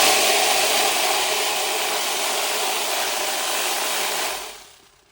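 A rock tumbler loaded with Wonderstone and ceramic media runs with a steady, loud broadband rumble and hiss for about four seconds, then winds down and falls quiet at the end.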